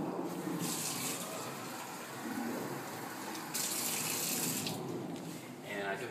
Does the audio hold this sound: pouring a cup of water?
yes